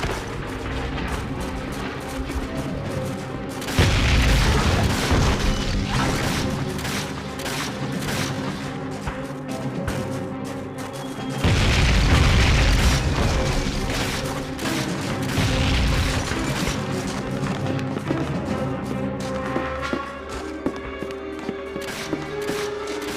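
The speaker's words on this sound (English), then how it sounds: "Incoming mortars! Keep your head down!" Mortar shells exploding in Call of Duty on PS2, heavy booms arriving in two big waves over continuous battle noise and gunfire, loud and rumbling, with no talk.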